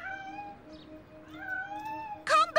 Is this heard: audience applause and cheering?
no